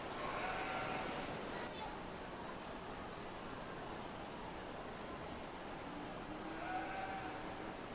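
Southdown sheep in a fair show ring bleat faintly a couple of times against a steady hiss of crowd and room noise.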